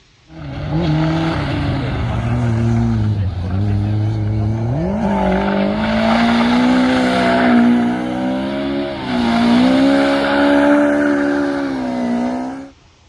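A car spinning in circles around a post on tarmac, its engine droning loudly and steadily with rising and falling revs, along with a sustained tire squeal, close and continuous for about twelve seconds.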